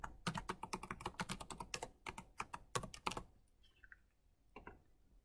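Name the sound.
typing a password on a computer keyboard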